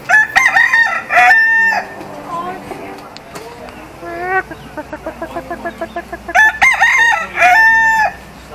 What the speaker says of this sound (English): the island is full of full-range chickens and roosters